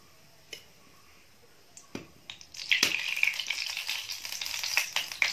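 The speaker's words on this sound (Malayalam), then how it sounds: "രണ്ട് ടേബിൾ സ്പൂൺ നെയ്യാണ് ഞാൻ ഒഴിച്ചു കൊടുക്കുന്നത്." Ghee poured into a well-heated clay pot, with scattered clicks at first and then a dense, bright sizzle that rises sharply and keeps crackling steadily nearby.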